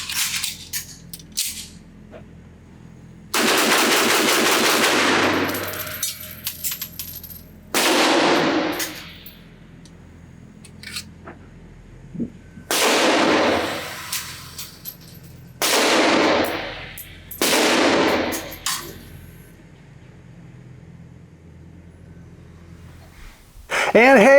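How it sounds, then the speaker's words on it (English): An AMT Automag III semi-auto pistol in .30 Carbine fired rapidly at a range, several loud sharp shots each ringing out into a long decaying tail, separated by short pauses. "see if I can get this thing to dump 8 rounds as fast as I can"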